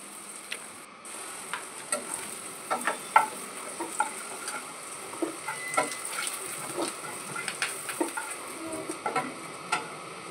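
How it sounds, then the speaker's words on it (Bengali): Steamed vegetables stirred and frying in a little oil in a pan, a soft sizzle under irregular scraping and tapping from the stirring utensil, close and fairly quiet. "আমি সবজিগুলোকে ভাপিয়েই তেলের মধ্যে নেড়ে চেড়ে নিয়েছি"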